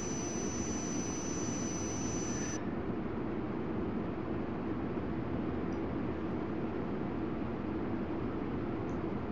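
A jet airliner taxis at Frankfurt airport in the game Tower! 2011, giving a constant, loud whooshing engine roar. A high whine fades out early and the broad rumble carries on alone.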